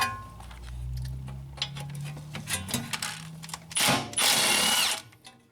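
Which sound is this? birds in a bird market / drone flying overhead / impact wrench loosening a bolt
impact wrench loosening a bolt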